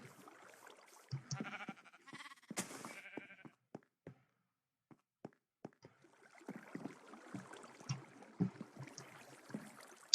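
Minecraft sheep bleat several times in short, wavering calls, interspersed with quiet clicks and soft rustling in the background.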